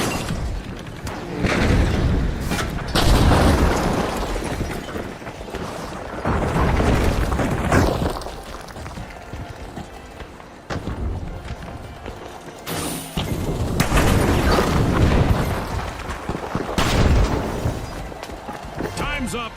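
Repeated heavy booms and blasts from grenade explosions in a video game match, loud bursts recurring across a busy battle soundscape with voices talking over it.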